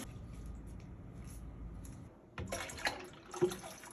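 A kitchen tap runs quietly in the background, then water splashes louder into a pot for a homemade spaghetti sauce, with a few clinks near the end.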